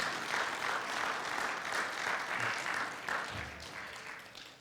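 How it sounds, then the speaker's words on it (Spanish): A church congregation gives a sustained round of applause during a sermon, a steady, even clapping from a crowd at moderate distance. "Dale un fuerte aplauso al Señor."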